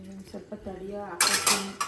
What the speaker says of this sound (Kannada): ನೀನು ಇನ್ನೂ ಪಾತ್ರೆ ಬೆಳಗ್ತಿದ್ಯಾ